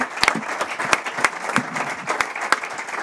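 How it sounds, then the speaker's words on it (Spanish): Audience applause at a university sports programme presentation, a scattered round of clapping with distinct sharp individual claps standing out, moderately loud and steady for a few seconds. "Un aplauso, ¿eh?"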